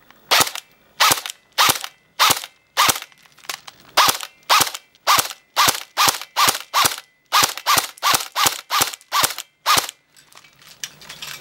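DBoys AK74 airsoft rifle firing on semi-auto at an outdoor range, about twenty sharp close cracks in a steady, quickening rhythm, then quiet.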